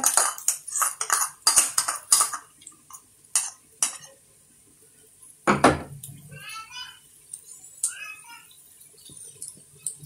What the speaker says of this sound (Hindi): अब मैं इसके अंदर लहसुन अदरक का पेस्ट ऐड करूंगी। लहसुन अदरक का पेस्ट डाल रही हूं।